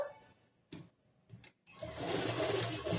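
A sewing machine stitches a hooks strip onto a blouse, with a few short isolated bursts at first, then a sustained run of close, busy mechanical whirring.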